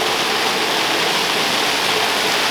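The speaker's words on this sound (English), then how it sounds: "I hope you can hear me over the sound of this fountain" Steady rushing and splashing of a public fountain in Kosice, loud and close, a continuous broadband wash with no pauses.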